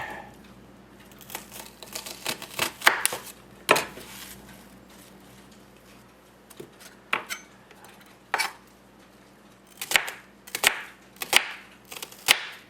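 A sharp knife chops onions for clam chowder, sending irregular bursts of crisp knocks against a cutting board, with clustered strikes separated by short pauses.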